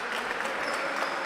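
Spectators at a basketball game between KK Pink Panteri and KK DanVer Gostivar applaud in a dense, steady patter of clapping that fills the whole moment without a break.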